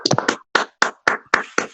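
A lone pair of hands claps close to the microphone during a prize announcement at the Grand Prix ACF AutoTech 2020 awards: a quick flurry of claps, then about five sharp, evenly spaced claps.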